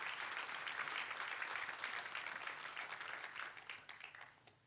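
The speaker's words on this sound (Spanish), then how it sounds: "Denle un fuerte aplauso a Dios por eso." Congregation at a church service breaking into sustained applause, a dense wash of many hands clapping that holds steady and then tapers off toward the end.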